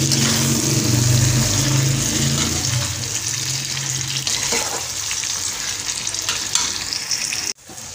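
Potatoes coated with yellow food colouring frying for biryani, a loud continuous sizzle of hot oil with a low rumble at first, then stirring noises, and a sudden brief cut near the end.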